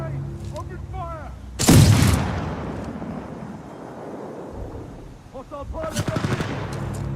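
A burst of video game gunfire in an aerial combat scene erupts loudly just after a spoken order, followed by a rumbling tail, with voices and game chatter talking before and after.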